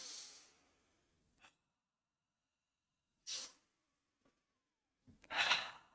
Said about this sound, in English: Full, deep breaths. Just feeling that expansion on the inhale, letting go on the exhale